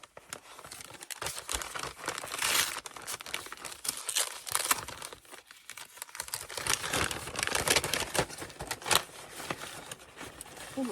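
Paper crinkles and rustles as hands rummage through a well-filled envelope of scrapbooking supplies such as washi tape, with irregular close bursts of crumpling and shuffling sounds continuing throughout.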